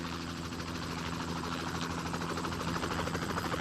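A helicopter drones steadily in a movie scene, a constant broadband engine and rotor roar at moderate level with no clear change in distance.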